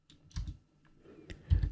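Keystrokes on a computer keyboard as an SSH login command is typed, a few scattered taps followed by a louder cluster of quick clicks near the end, close and without talk.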